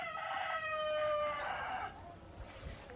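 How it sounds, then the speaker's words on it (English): Rooster crowing close by in a tropical food forest in El Salvador, one long, loud, strained call that trails off, followed by quieter background ambience. "That rooster sings a lot."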